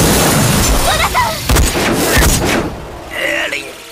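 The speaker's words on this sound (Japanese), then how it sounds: "高圧で体液を目から発射する。" A Space Ripper Stingy Eyes high-pressure eye fluid attack sound effect, loud sharp blasting bursts with pops and hissing, a couple of quick strikes followed by a softer whooshing tail.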